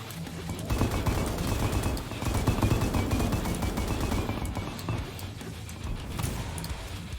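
Rapid bursts of gunfire from snipers and the player's weapons in the video game Nightmare Reaper, loud and continuous, dense shots overlapping throughout with crashing impacts.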